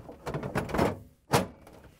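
A Samsung refrigerator door swings shut with a single solid thunk after some shuffling and handling, close by and moderately loud.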